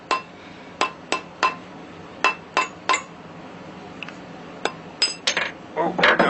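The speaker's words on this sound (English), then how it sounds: "Just take a hammer or a mallet, rubber mallet, whatever." Repeated sharp metallic taps from a mallet knocking a coin ring off a steel mandrel, about a dozen irregular close strikes with short pauses, ending in a brief scrape.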